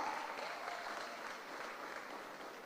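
Applause from an audience at a nursing school graduation ceremony, a faint, distant, steady patter of many hands clapping in a large hall, even and continuous without voices over it.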